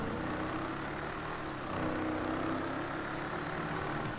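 A deep, continuous drag truck engine rumble idles steadily in the video game GTA V, with a slight swell midway, loud and close with no other sounds.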